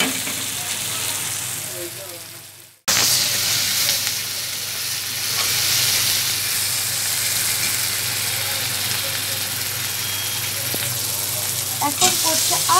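Onions and cumin seeds sizzle and fry in a hot pan with salt, a steady close broadband hiss that cuts out briefly near the start and then resumes loudly for the rest.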